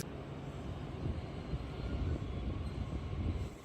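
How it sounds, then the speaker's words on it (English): A JR Kyushu Relay Kamome Limited Express train runs with a steady, moderately faint rumble and broad hiss that swells slightly before cutting off abruptly at the end. "we're taking the Relay Kamome Limited Express"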